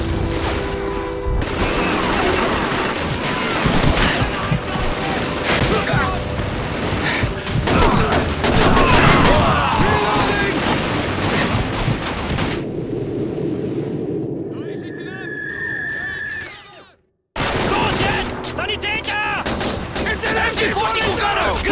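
MG 42 machine gun fire in the Call of Duty 2 World War II shooter: dense, loud sustained bursts and battle noise with overlapping shots, then a brief gap before the firefight crashes back in, shouted voices mixed underneath.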